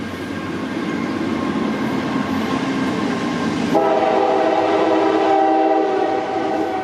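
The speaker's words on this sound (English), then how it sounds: "Train coming by" A train rumbles past steadily, with a sustained horn-like tone joining partway through; loud and continuous, no talking.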